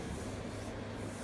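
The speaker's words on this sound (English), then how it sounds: "I'm sanding through the color on purpose, trying to get these little, spots out" Sandpaper rubs steadily across the lacquered color finish of a Les Paul guitar body, a soft continuous scratchy hiss, close and quiet, with no voices.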